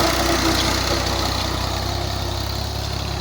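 A 2014 Al-Ghazi tractor engine idles steadily, a loud, continuous low diesel rumble with a fast even throb, close by and alone.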